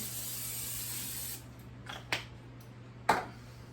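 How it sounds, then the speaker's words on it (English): A steady hiss of aerosol cooking spray onto a pan for over a second, then two short spritzes after a pause, close and fairly loud. "So I'm just going to go ahead and spray my pan."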